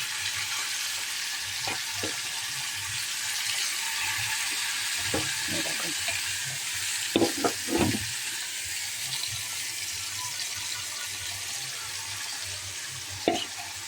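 Fish pieces and spices fry in a pan over a gas flame with a splash of water added, giving a steady close sizzle broken by several sharp clinks and scrapes of stirring.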